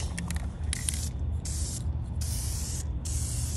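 Vinyl paint from a spray can applied to a truck interior in four short hissing bursts, the first choppy and the rest steady, close up with a low background hum.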